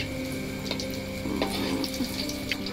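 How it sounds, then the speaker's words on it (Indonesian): Tempeh fries in oil over a wood fire, a steady dense sizzle with occasional crackles and faint stirring clinks running throughout. "kita goreng lagi ya"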